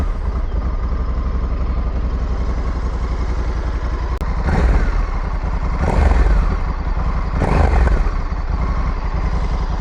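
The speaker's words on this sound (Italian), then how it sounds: "la mettiamo in moto e facciamo subito un bel check sound." A newly bought motorcycle started up and running, its engine rumbling steadily up close with three louder revving bursts and popping crackles, with no talk over it.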